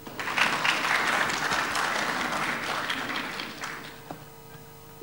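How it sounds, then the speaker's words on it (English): An audience at a university youth leadership forum breaks into sustained clapping, loud and dense at first, then thinning and fading over about five seconds. "So let's give him another clap."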